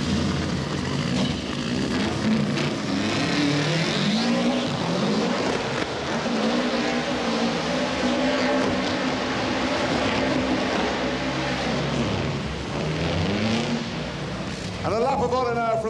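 A 650 horsepower Peugeot 306 rally car engine revving in an indoor arena at a 1995 motorsport show, a loud continuous rasping roar with rising and falling pitch, heard under crowd noise and commentary.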